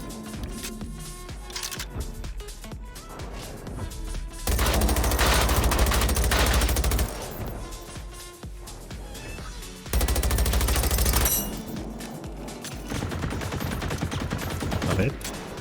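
Rapid video-game gunfire bursts out in loud, dense volleys, with two heavy stretches of sustained automatic fire standing out against a busy game soundscape and music while a streamer talks.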